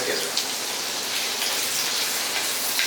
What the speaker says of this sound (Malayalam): അപ്പൊ ഈ സവോള ഇനി നന്നായിട്ടൊന്ന് വഴറ്റിയെടുക്കാം